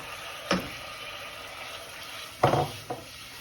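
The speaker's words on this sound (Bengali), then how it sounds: "এখন আমি এগুলো চিংড়ি মাছগুলো দিয়ে দেবো" Prawns hit a pan of cooked-down spiced masala for a shrimp and Malabar spinach dish: a quiet background followed by a few sharp bursts of sizzling, one early and two close together near the end, with no talk.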